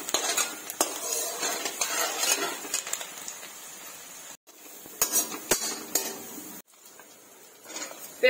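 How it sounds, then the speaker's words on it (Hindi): Chopped onions frying in a pan while a spoon scrapes and clinks against the metal, irregular stirring strokes over a light sizzle, close and fairly quiet with short pauses. "इसे हम गोल्डन ब्राउन होने तक फ्राई करेंगे। अच्छे से मिक्स कर लीजिए इसको।"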